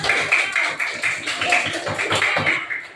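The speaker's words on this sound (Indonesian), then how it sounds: "tepuk tangan dulu di kelompok 2" Classroom applause for a student group, a short burst of quick, uneven hand claps from several people close by, lasting about three seconds.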